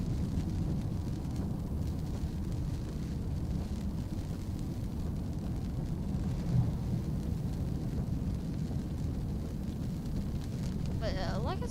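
Thunderstorm carried over a storm chaser's live audio feed from a tornado-warned storm in Mississippi, a steady low rumbling roar with wind and rain noise running throughout, with someone talking over it.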